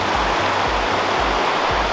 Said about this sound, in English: a typical, just unbelievably beautiful North Georgia stream